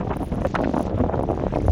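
Strong wind at sea buffeting a small fishing boat, gusty rushing noise hitting the microphone continuously for under two seconds.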